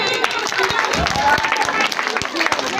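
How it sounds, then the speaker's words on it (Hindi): Children and adults at a Christmas celebration clap steadily together, with voices and crowd noise running through the applause. "एक जोरदार तालियां हमारी पूजा मैम के लिए"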